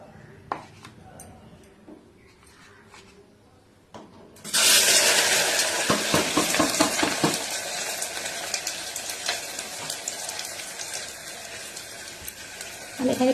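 Chopped onion hits hot oil in a pan for chilli chicken, bursting into a loud, steady sizzle partway through after a quiet start with faint kitchen sounds; the frying continues crackling without letup.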